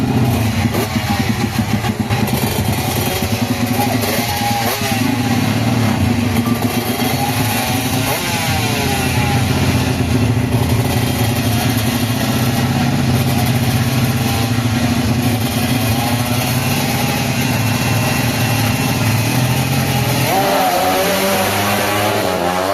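A 2-stroke Yamaha RXZ 59 and a 4-stroke Honda-style Sniper Open racing motorcycle rev hard in a loud, continuous, close duel, engines rising and falling through throttle blips with a pitched sweep near the end, faint voices underneath.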